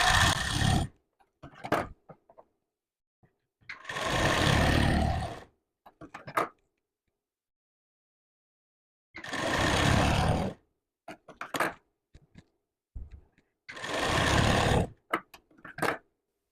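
A sewing machine stitches tucks into a blouse in four short runs of a second or two each, with quiet pauses and small clicks from handling the fabric in between.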